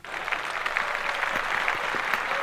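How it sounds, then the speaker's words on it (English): A podcast studio audience applauds a newly introduced guest, with steady, dense clapping from a small crowd that carries on through the whole stretch. "And clap that up for Nina"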